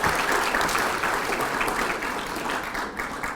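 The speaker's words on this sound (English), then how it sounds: "So applause and cheer is welcome" Audience applause at a leadership awards ceremony, a dense, loud burst of many hands clapping that carries on steadily and eases slightly toward the end.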